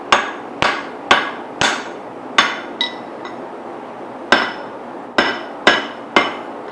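A steel hammer head being forged with a guillotine tool, struck by a hammer in about ten sharp, ringing blows at an uneven pace, loud and close, with short pauses between groups of strikes.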